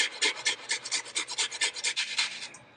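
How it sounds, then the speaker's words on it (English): An onion is grated on a microplane grater over a cheese mixture: about a dozen quick rasping strokes in a steady back-and-forth rhythm, close and clear. "I'm going to grate some of the onion into this cheese mixture"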